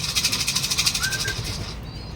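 Racing pigeons arriving at the loft during a derby race in Naga, Camarines Sur, wings beating in a rapid, steady flutter close by that eases off toward the end, with no talk.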